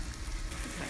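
Rice flour pancakes frying in a small frying pan give off a steady, close sizzle with soft crackling, continuous and even throughout with no voices.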